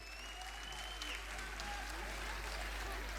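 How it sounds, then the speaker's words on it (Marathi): An audience claps at a kindergarten annual dance program, steady dense applause throughout, somewhat distant and faint. "सगळ्यांनी एकदा जोरात टाळ्या वाजवल्या पाहिजेत."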